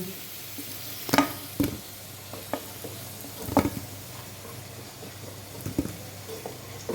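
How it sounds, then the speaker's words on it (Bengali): Potatoes frying in oil in a pan, a soft steady sizzle broken by several sharp clinks and scrapes of stirring, close and fairly quiet throughout. "আলুগুলো এইভাবে একটু লালচে করে ভেজে তুলে নিচ্ছি।"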